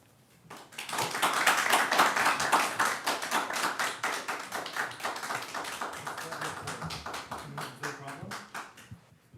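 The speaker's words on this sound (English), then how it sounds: "I'm allowed to clap." A citizen claps at a city council advisory committee meeting, a rapid run of sharp claps that slows and thins out toward the end, close to the microphone.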